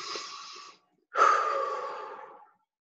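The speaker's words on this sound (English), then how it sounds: "You take one big breath." A single deep breath taken during a guided meditation: a short exhale, a pause, then a long, loud, drawn-out breath close to the ear, with no talking.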